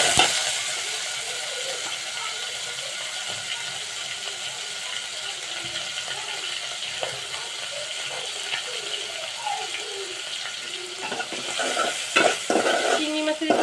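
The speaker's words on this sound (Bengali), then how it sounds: "আদা রসুনের গন্ধটা যাওয়া পর্যন্ত আমি একটু নাড়াচাড়া করবো।" Ginger, garlic and prawns sizzle steadily in a pan while being stirred, with a soft constant frying hiss and louder clinks and scrapes near the end.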